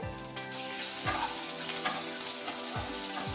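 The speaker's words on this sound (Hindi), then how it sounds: "अभी इन सारी चीजों को 3 से 4 मिनट तक लो फ्लेम में फ्राई करेंगे ताकि सारी चीजें अच्छे से सॉफ्ट हो जाए।" Chopped tomatoes with salt and spices fry on low flame in a kadai for mushroom curry, a continuous close sizzle with a few stirring scrapes, no speech.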